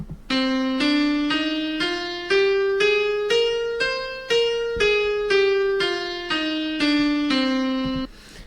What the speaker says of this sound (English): Now the natural minor scale sounds like this.